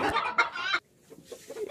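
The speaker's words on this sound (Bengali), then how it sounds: "এখানে দুইটি মুরগি ডিম দিচ্ছে, একটি মুরগি রেস্টে আছে" Domestic hens cluck close by in a short burst of throaty calls, then softer low clucks follow after a brief pause.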